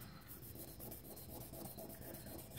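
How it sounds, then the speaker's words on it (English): Quiet, steady rasping strokes of light hand sanding on steel, a rhythmic back-and-forth scrubbing at close range with no talking. "just very light sanding over the top of it."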